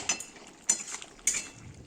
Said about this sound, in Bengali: ঘিটা দিয়ে ভালো করে নাড়িয়ে নেব